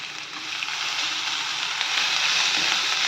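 Fennel seeds, pepper powder and fresh coriander frying together in a hot pan, giving a steady, close, even sizzle that swells slightly toward the end, with no talk over it.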